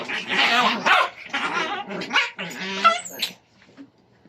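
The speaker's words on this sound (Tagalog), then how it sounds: "Ang iingay ng mga tuta ko." Several puppies yapping and barking in quick, overlapping bursts, shrill and close, for a few seconds before fading to a few faint yips.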